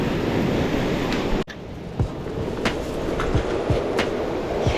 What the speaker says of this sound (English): We got waves making it up to the sidewalk, up the seawall, so still pretty choppy